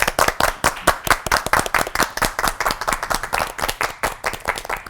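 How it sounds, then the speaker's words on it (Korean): A studio audience at a Korean church talk show claps together in steady, brisk applause, loud and close, with no talk over it. "박수로 맞아주시기 바랍니다."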